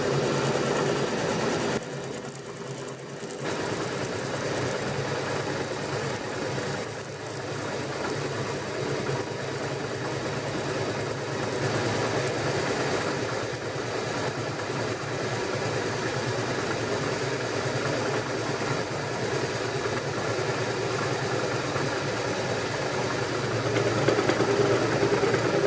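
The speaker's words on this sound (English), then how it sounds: "This is a 100 mil facing cutter that I've got, and it's cutting very well." A 100 mil facing cutter machines a slotter table, a steady, loud mechanical drone with a low hum and a grinding cutting hiss that runs unbroken for about twenty-five seconds, with a brief dip near the start.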